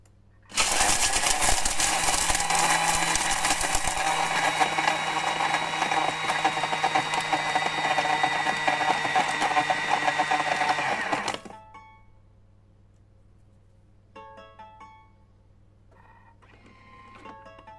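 A loud, harsh whirring roar of a Thermomix grinding at top speed for about ten seconds, making breadcrumbs, then it stops, leaving faint clinks.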